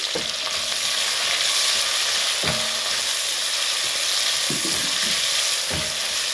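Tomatoes, ginger, garlic and green capsicum fry in a pan with a strong, continuous sizzle, broken by a few soft stirring clinks and scrapes, with no speech.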